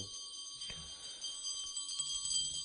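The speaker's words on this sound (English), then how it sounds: "please ring the bell as you do so" A small hand bell rings continuously in a bright, sustained jingle during a lamp offering ritual, faint and steady throughout with a soft knock near the start.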